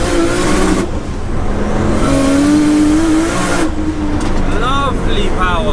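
A 700 bhp Nissan R33 Skyline accelerates hard in second gear, its engine roaring loud and close with a rising whine, running steadily for several seconds under a burst of wheelspin.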